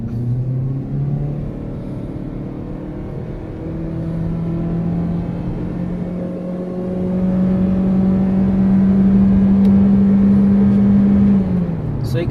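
A 2019 Honda Civic 1.8 i-VTEC pulls from a standstill toward 100 in D mode, the engine note climbing steadily into a loud, sustained drone with a low road rumble underneath, and no talking.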